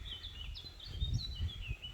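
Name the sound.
birds chirping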